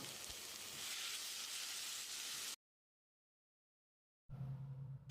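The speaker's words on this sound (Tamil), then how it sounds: "1 டீஸ்பூன் உப்பு சேர்த்து தக்காளியை நல்லா வதக்கிடலாம்." Steady loud sizzling of tomatoes sautéing with salt in a pan, broken by a brief silence before the sizzle resumes.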